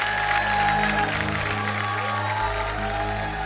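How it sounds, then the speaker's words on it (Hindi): An audience applauds and cheers as an actor, singer and MP is welcomed onto a stage, with loud continuous clapping and crowd noise over a low droning background. "सो आप सबकी जोरदार तालियों के बीच में बुलाना चाहूंगा"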